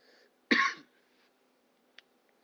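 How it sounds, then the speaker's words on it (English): A single sharp cough, loud and close, followed by a quiet pause and a couple of faint clicks. "my apologies for the cough"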